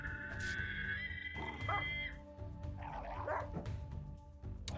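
Dogs barking and yipping while fighting mechs in the video game RimWorld, scattered sharp barks and whines over a low steady game background, fairly faint, with no voices.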